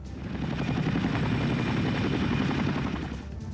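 A military Chinook helicopter flies nearby, its heavy rotor thumping in a steady, dense throb that stays loud and constant throughout, with no voices.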